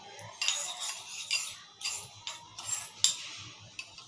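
Spoon stirring chilies in oil in a pan, rai vada marcha being prepared: a string of scraping, clinking strokes in irregular bursts, close and fairly quiet, with no talk.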